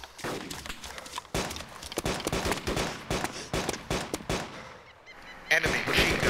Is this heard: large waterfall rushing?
no